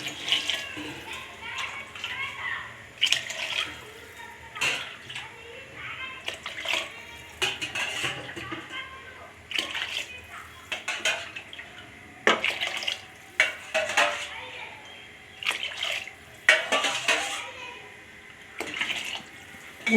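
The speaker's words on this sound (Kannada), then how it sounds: "ನೋಡಿ ನೀರು ಹಾಕ್ಕೊಳ್ಳಿ" Water splashes into a pot of veg pulao rice in broken, gushing spurts over about twenty seconds, while a voice talks at times over the pouring.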